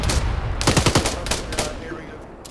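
Suppressive gunfire in the military video game Arma: a fast, loud burst of automatic shots, followed by a few scattered rounds that fade out.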